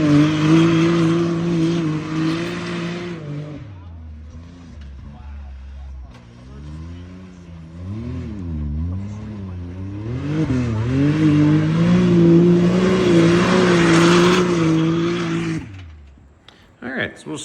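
A street-legal Can-Am X3 turbo side-by-side idles and revs, its engine note rising and falling in waves across the clip, loud and close, with a steadier high-pitched drone at the start and end.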